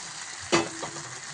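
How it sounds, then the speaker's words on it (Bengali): Potatoes dropped into chicken sautéing in oil, a constant hiss of frying broken by one sharp, loud splash-sizzle as the pieces land, then a softer scrape of stirring. "মাংসতে তেল ছেড়ে গেছে। এবারে এর মধ্যে আমি আলু দিয়ে দিলাম।"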